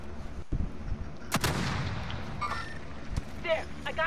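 Gunfire from enemy squads in Call of Duty Warzone, a few heavy booming shots and bursts, one loud close blast, amid game noise with people talking over it.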